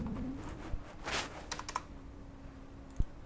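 Typing on a computer keyboard while entering text for a web page, a few scattered soft key taps with one sharper keystroke near the end, close and quiet with no talking.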